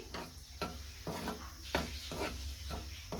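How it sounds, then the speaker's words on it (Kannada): Cardamom frying in a pan on the stove, a soft sizzle punctuated by regular scraping and stirring taps from a utensil, close and fairly quiet. "ಇವಾಗ ಫೈನಲ್ ಆಗಿ ನಾನು ಏಲಕ್ಕಿಯನ್ನು ಕೂಡ ಫ್ರೈ ಮಾಡ್ಕೊಳ್ತಾ ಇದ್ದೀನಿ"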